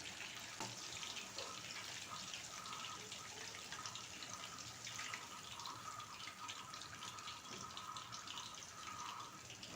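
Ripe nendran plantains frying whole in their peels in hot oil give a steady, dense sizzling hiss that holds unbroken and fairly close for several seconds, with no voices.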